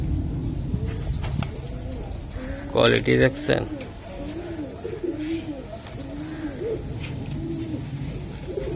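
Giribaz pigeons coo in low, rolling bursts throughout, close by, while someone talks over them.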